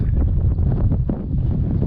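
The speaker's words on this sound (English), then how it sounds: "Windy up here too." Strong wind at a rocky petroglyph site in New Mexico buffets the microphone in loud, continuous low rumbling gusts throughout, with no other clear sounds.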